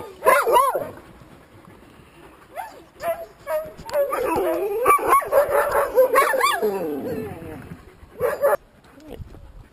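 Sled dogs, just back from a run, yip, whine and give short excited barks, with rising and falling whimpers that come in quick clustered bursts, close and loud, separated by brief lulls.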